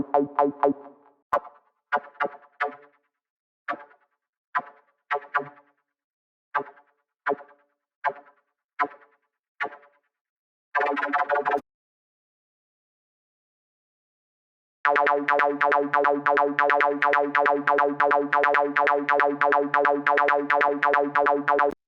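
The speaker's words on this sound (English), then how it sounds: "Now we need an acid sound like this." A resonant, squelchy acid synth for an uplifting trance track plays short staccato stabs, pauses, then settles into a fast, steady repeating buzzy pattern alone.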